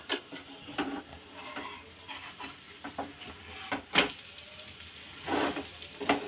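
A thalipith, a flatbread made with pithla, roasts on a hot iron griddle (tawa) with a soft, faint sizzle. Occasional light scrapes and taps of a spatula turning it break the sizzle.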